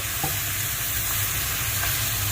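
Tomato, onion and ground masala fry steadily in a pan for chicken curry, a continuous close sizzle with a faint stir or two and no talking.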